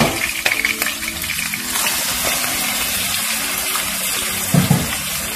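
Chicken pieces sizzle and fry in a hot pan for chicken jalfrezi, a steady loud crackle with stirring scrapes and a brief louder hiss near the end, no talking.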